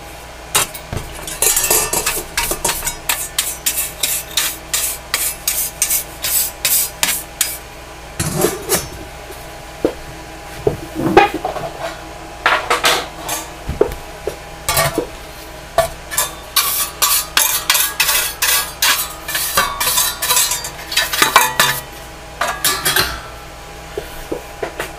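Metal shielding from an original Nintendo console is scrubbed in quick, repeated bursts of close scratchy brushing with faint metallic clinks, coming in irregular rhythmic strokes with short pauses between runs.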